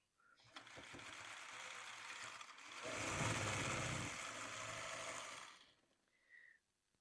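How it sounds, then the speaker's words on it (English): A sewing machine runs a continuous seam through nested quilt blocks, a steady close whir that speeds up midway, then stops, followed by a faint short click. "we can sew that straight up the middle and get all that nested"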